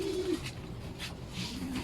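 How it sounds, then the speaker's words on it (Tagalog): Flock of birds, pigeons or doves, getting rowdy, soft repeated cooing and fluttering calls at moderate distance over steady background noise, with no talking. "Ayan, nagwawala na yung mga ibon natin"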